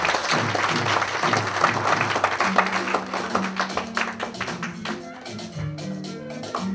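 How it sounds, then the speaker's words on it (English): A round of applause from guests at a Surgical Society of Kenya fundraiser dinner after a cake cutting: brisk, crowded clapping over background music, thinning toward the end. "Ladies and gentlemen, a round of applause."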